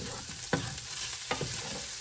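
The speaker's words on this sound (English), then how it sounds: "we're gonna just go ahead and throw the rice and tofu in here" Rice and tofu stirred in a frying pan, with two distinct scraping strokes of the spatula cutting through a steady, close sizzle of hot oil, no voices.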